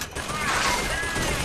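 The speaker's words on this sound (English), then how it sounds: "Who the heck is shooting me? Where is the shooting coming from?" Gunfire in the video game Bioshock Infinite, a steady burst of rapid shots with crashing impacts, fairly loud and continuous over a short stretch.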